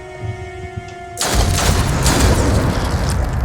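Gunfire from the turn-based tactics video game Othercide: a quiet hum breaks into a loud, dense burst of shots and blasts that rumbles on for a couple of seconds, with no voices.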